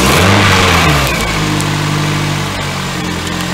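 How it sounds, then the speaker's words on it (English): A 2007 Toyota Matrix engine, just back from a head gasket replacement, starts up with a brief rev and settles into a steady, smooth idle, close and loud with no talking. "Start her up. Idle's like a champ."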